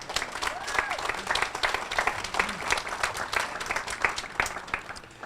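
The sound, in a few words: audience applause at Veterans Day event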